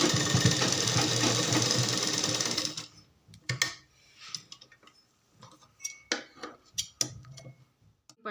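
A sewing machine stitching a strip of old kurti fabric runs with a steady whirring hum for about three seconds, then stops, followed by scattered handling clicks and taps.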